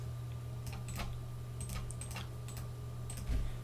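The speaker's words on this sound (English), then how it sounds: "first of all, execute this command and then type this." Typing on a computer keyboard enters a command, producing a string of crisp, irregular key clicks over a steady low electrical hum, close but fairly quiet, with no talk.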